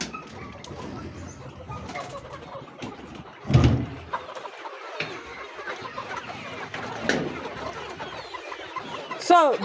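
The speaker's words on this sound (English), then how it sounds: "You can hear even the voices have changed from the chick's voice to coming to mature" Twelve-week-old layer chickens on a farm give soft scattered clucks and murmurs, with one louder squawk in the middle and a rising call near the end, over a low busy flock background.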